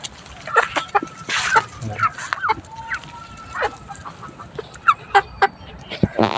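Chickens on a small poultry farm cluck and call during feeding near their water, a steady busy mix of short clucks from several birds at close range, with a few louder calls standing out.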